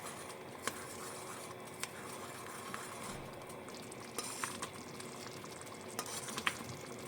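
A sauce with tomato paste, made to go with beyti kebab, bubbles and sizzles quietly in a pan while a utensil stirs it, adding occasional light clicks and scrapes; no one speaks.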